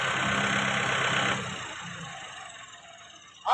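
A Kubota MU 5502 tractor engine running, a loud mid-pitched drone that drops off after about a second and a half to a quieter idle, ending with a brief sharp noise.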